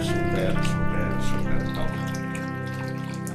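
Water pouring and splashing into a natural thermal hot spring pool in the Cerdanya mountains, a steady close gurgle with a faint voice briefly over it.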